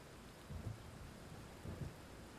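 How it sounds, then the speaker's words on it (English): Rain falls outside with two low, distant rumbles of thunder rolling under a steady soft hiss, faint overall. "Oh, it's raining here now."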